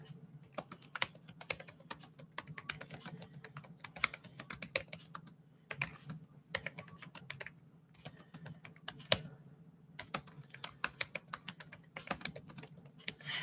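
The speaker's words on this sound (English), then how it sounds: "Let me type it in here for Carol." Fingers type on a computer keyboard in fast, uneven bursts of close, crisp key clicks, with short pauses between runs and no talking.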